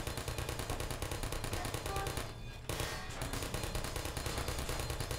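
Sustained rapid automatic gunfire in a video game as a teammate gets shot, hammering at a fast even rate, close and steady, with one brief break partway through.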